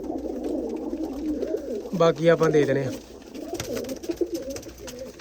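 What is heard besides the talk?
pigeons cooing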